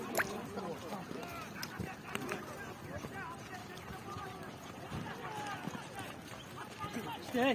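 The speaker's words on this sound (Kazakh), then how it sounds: "Аттар көбөйүп кетти." Horses gallop in a village ulak (kok-boru) match in Petrovka, a busy drumming of hooves under a crowd's shouting and voices, with occasional louder thuds up close.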